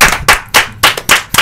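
A handful of sharp, close hand claps in a steady rhythm, about six distinct strikes from the audience of a podcast recording, with no talking.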